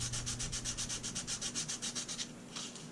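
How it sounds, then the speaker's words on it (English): Trophy buckle beads rubbed flat on sandpaper over a flat surface, a quick, even series of about fifteen scratchy back-and-forth strokes, close up, then a brief pause and one more stroke. "take some sandpaper before you put them on the buckle and just kind of hold them flat on flat surface and do this."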